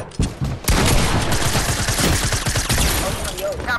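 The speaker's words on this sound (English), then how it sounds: "I hear him shooting." Dense, loud bursts of automatic gunfire from a PS4 battle game fill the clip, a rapid near fusillade of overlapping shots after a brief quieter opening.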